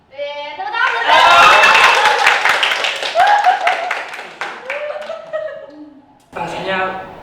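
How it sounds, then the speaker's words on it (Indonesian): A few people clap their hands in a short burst with chuckles during a podcast conversation, the clapping mixed with laughter and voices before speech resumes. "Tepuk tangan."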